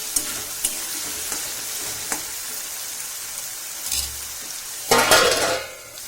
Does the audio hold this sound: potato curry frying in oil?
yes